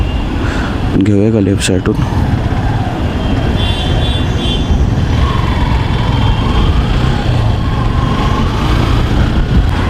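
Dense road traffic from cars, buses and trucks idling and crawling in a jam rumbles steadily and loud, with engine drone and occasional distant horns, a voice speaking briefly over it near the start.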